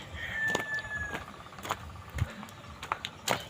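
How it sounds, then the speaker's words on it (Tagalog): A rooster crows once, drawn out and fairly clear, on a farm, followed by scattered clucks and a few sharp knocks against quiet outdoor background. "May manok guys, oh."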